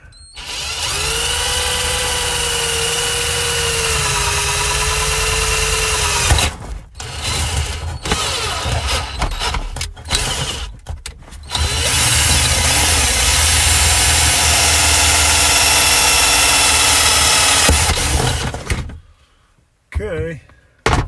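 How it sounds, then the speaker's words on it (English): A power drill bores through the wall of a 2021 WolfPup 17JG camper trailer. Loud, sustained whirring runs in two long stretches, broken by short bursts and pauses. "Okay, drilled through to the outside, right there."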